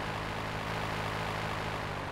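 A plane's engine drones in Grand Theft Auto 3 Definitive Edition, a dense, steady propeller-like roar that stays loud and close for the whole short stretch, with nobody talking.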